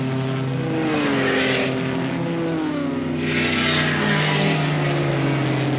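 Vintage racing cars, a Mazda and a 2.3-litre Bugatti, pass on the Goodwood track at a members' meeting, with a loud sustained engine roar whose pitch shifts as they go by.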